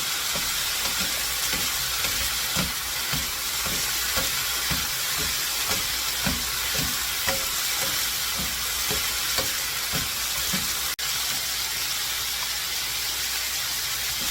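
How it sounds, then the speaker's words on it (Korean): Potato strips stir-frying in a pan with Cheongyang and red chili peppers, a steady close sizzle and hiss with regular soft scraping stirs throughout, and one sharp tap near the end. "청양고추랑 홍고추 넣고 다시 볶아줄게요"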